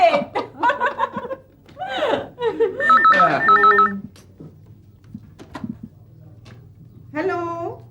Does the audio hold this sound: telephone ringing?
yes